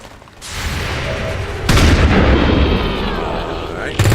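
Gunfire and artillery-like booms from the video game XCOM 2 crack out in a few loud bursts with sustained rumbling between them and a final sharp hit.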